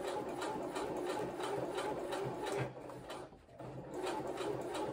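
A sewing machine runs top stitching with heavy top stitching thread and a size 130 needle, a steady close mechanical whir with rapid needle ticking that briefly slows and dips, then resumes at full pace.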